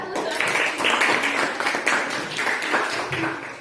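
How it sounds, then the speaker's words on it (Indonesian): Students in a classroom applaud a presenting group with a short, steady burst of hand clapping that continues evenly for a few seconds. "Kita beri tepuk tangan untuk kelompok 1."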